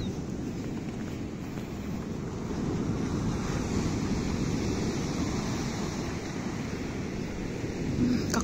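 Heavy surf of a stormy sea on the Spanish coast roars continuously with strong wind buffeting the microphone, a loud, rough wash of waves building and rolling without pause.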